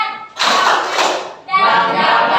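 A school class does a rhythmic spirit clap in unison, loud close bursts of many hands in a patterned beat, with a brief pause between two clapping phrases.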